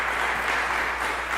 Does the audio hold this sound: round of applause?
yes